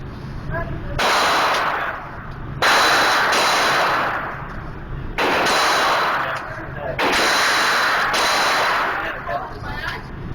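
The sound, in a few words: gunfire with old ammunition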